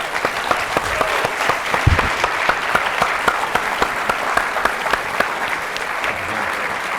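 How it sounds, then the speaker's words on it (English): Audience applause at the 92nd Street Y after a conversation with Vladimir Sorokin, loud close clapping with distinct individual claps standing out over the crowd's steady patter throughout seven seconds. "Give me a round of applause"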